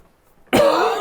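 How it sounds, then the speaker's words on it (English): A single sudden, harsh cough bursts out loud and close after a brief silence. "Cough, cough, cough."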